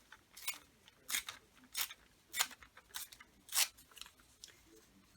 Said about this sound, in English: we need to probably rip it down about there